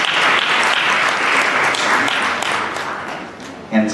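A conference audience applauds panelists in a full, steady round of clapping that fades near the end, where a voice begins to speak.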